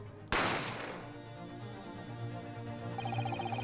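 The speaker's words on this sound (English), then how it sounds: "You heard the gunshot, you mean?" A single sharp gunshot in The Great Ace Attorney video game, one loud crack with a reverberant decaying tail, followed by a quiet sustained musical tone and a faint repeating beep.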